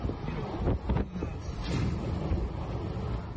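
Strong wind gusts roar across the Serra do Rio do Rastro mountain road, powerful enough to topple a parked truck, a steady buffeting rush with a few harder bursts and no voices.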